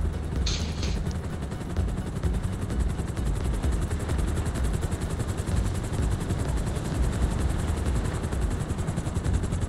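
A helicopter in GTA Online roars with a heavy, rapid rotor thump and engine drone, steady and close throughout, with a brief high crackle near the start.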